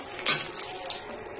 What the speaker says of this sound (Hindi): तो सबसे पहले हम फोरन में जीरा डालेंगे, साथ ही तेज पत्ता भी डालेंगे